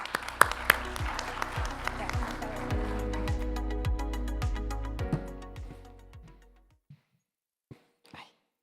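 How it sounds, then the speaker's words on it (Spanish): An audience at a medical conference on HIV and HPV claps, a dense burst of applause that holds steady for several seconds, then thins out to a few last scattered claps before silence. "Un aplauso, por favor."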